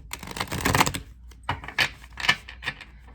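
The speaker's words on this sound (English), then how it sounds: "These decks were already pre-shuffled, but I'll just do it one more time anyways." An oracle card deck being shuffled by hand, with a long riffling burst of card flutter followed by several short, sharp slaps and flicks, close and fairly quiet.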